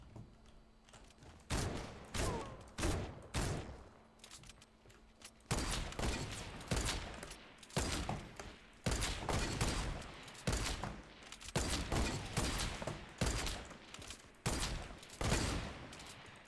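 Weapon fire in the video game Fortnite, bursts of rapid gunshots in uneven volleys with brief pauses between them, loud and close.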